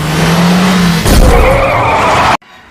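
Car chase scene from a film in which one car rams another: a steady engine hum, then at about one second a sudden broadband impact with a scraping, skidding roar that runs loudly until it cuts off abruptly.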